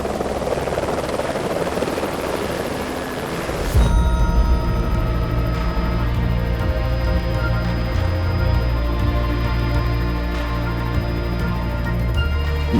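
A helicopter flies over Lake Lucerne in Switzerland, a steady, loud rotor and engine drone heard from on board that thickens into a deeper, pulsing thrum partway through, continuous with no talking.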